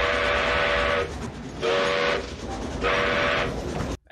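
A steam locomotive in Back to the Future Part III sounds three long whistle blasts, loud and close, over a steady rumble of the rolling train, with a short gap between each blast and no talking.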